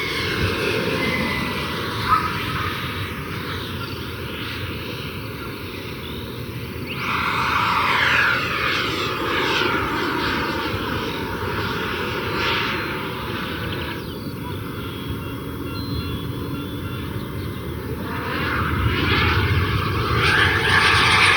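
A Freewing Avanti RC jet with an 8S 3 kW electric power system makes a slow flyby, a steady whooshing whine that swells and fades, with some talking nearby.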